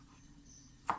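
A knife slices through an eggplant on a board with a single quick, close cut near the end, after a short quiet stretch.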